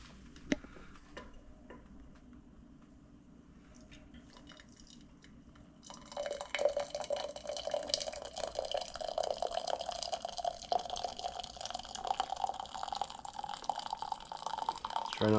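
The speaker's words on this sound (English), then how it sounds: "Crack the valve here and pour it right out into our jars." Thick homemade syrup poured from an opened valve into glass jars: a steady close liquid stream that starts about halfway through and stays fairly loud, rising slightly in pitch as each jar fills.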